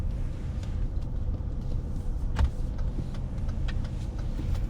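A car slowly accelerates along a city road in traffic during a driving lesson: a steady low engine and road rumble with a few faint ticks and one soft knock, and no talking.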